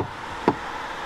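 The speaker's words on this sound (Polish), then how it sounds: "Jeszcze mi drzwi zamknął." A car door shuts once with a single dull thud, heard close over a steady background of engine or road noise, with no talking during the moment.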